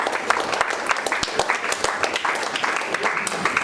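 A church congregation applauding during a service, a dense, steady patter of many hands clapping at close range, with voices mixed in.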